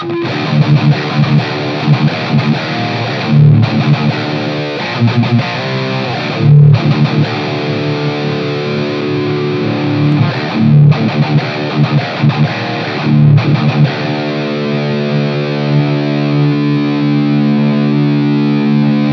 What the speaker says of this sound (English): The lead channel is a good contender for a high gain tone as well.